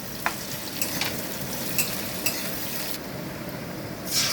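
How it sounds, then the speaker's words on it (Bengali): Chopped onion sizzles steadily in a pan while being stirred, with occasional clinks of the spoon against the pan and a constant close frying hiss for a Bengali fish curry. "পেঁয়াজ কুচিটা দিয়ে ভালো করে নেড়ে নেব।"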